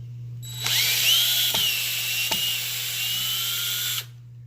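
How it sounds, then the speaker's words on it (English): A power drill or driver backing a screw out of a household door during a repair, a steady whining motor run of about three and a half seconds with a couple of brief clicks, over a constant low hum. "I'm going to take the screw out here"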